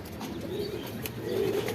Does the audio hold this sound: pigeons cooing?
yes